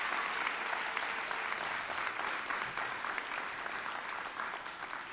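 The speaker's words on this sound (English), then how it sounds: "So a big round of applause to everyone and to the crowd." Graduation audience at the TSIBA Business School ceremony applauding steadily, a dense, even wash of clapping from a large crowd that holds its level for several seconds before easing slightly.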